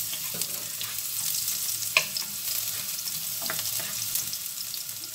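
Garlic sizzles in hot cooking oil in a pan and is stirred at the start of a chop suey of mixed vegetables. The frying hiss is steady, with a few clinks and scrapes from stirring and no talking.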